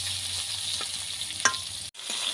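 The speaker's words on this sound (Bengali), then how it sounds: "লাল করে একটু ভেজে নেব।" Eggplant slices sizzle in hot oil in a frying pan, a close, continuous crackle with a couple of soft stirring scrapes and a brief clatter near the end.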